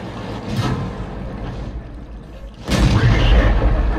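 Tank gunfire in World of Tanks, with a shell bouncing off a gun mantlet: a rumbling low background, then a loud sudden boom at about the two-thirds mark that stays heavy to the end.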